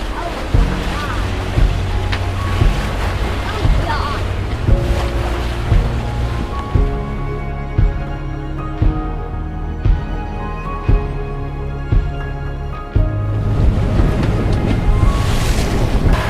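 Ocean waves wash around a sailing boat under way in the Bahamas, mostly buried under loud rhythmic music, then a rush of wind and surf swells up near the end.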